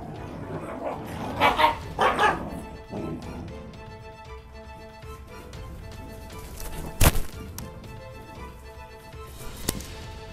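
A Kangal livestock guardian dog barks loudly in a few quick bursts early on, then only occasional faint yips and sounds follow against quiet outdoor background noise.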